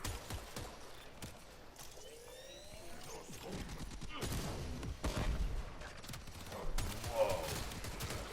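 Weapon fire from a gun in the video game Warframe, a dense run of rapid game shots with bursts, swooshes and impacts across the clip, growing louder toward the end.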